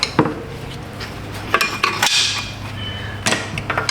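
Metal rear brake hardware on a Buick Enclave is popped off during parking brake repair, producing close, sharp clinks and metallic clatters in several quick bursts, with quiet between them.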